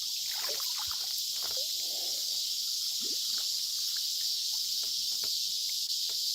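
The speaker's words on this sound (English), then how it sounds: "The cicadas are really loud" Loud cicadas drone steadily in a high, unbroken buzz throughout an outdoor fishing spot, with faint splashes and small knocks underneath and no talking.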